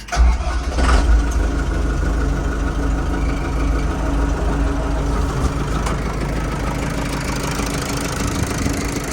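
A Foton-Lovol TB-454 tractor's diesel engine cranks and fires up with a loud burst, then settles into a steady, heavy idle close by.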